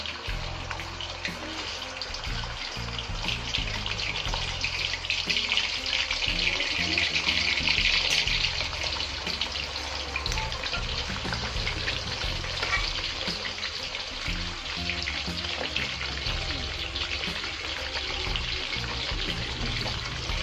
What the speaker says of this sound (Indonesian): Ini minyaknya sudah panas, langsung saja kita menggoreng udang.